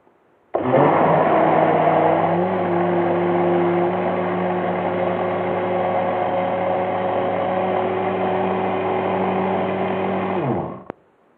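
An electric blender whirs loudly and steadily for about ten seconds, then spins down and stops; no one speaks.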